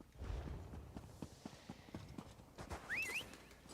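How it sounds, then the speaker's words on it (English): Horse hooves clip-clopping at a steady walking rhythm in the game Elder Scrolls Online, fairly quiet and close, with a short high chirp near the end and no speech. "Horsey!"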